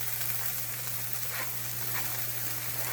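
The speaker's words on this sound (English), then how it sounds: "We're going to saute the green pepper, red pepper, the red onion," Green pepper, red pepper, red onion and scallion sauteing in a pan, a steady even sizzle throughout with a low constant hum beneath and no talking.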